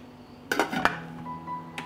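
A metal lid settles onto a cooking pot holding jars in water, giving a quick cluster of clanks and clinks followed by a single lighter tap, close and clear against a quiet background.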